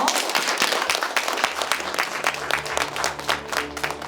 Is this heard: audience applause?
yes